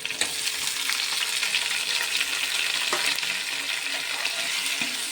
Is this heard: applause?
no